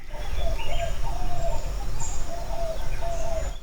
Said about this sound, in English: I don't remember the last time I was able to hear the birds chirp.